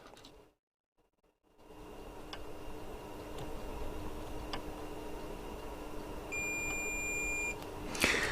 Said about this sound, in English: Let's just put that in beeper so you can hear it beeping.